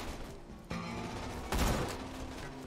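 Skullmasher sniper rifle firing in a Borderlands game, two sharp, loud blasts a little under a second apart, each with a short ringing tail over a steady background of game noise.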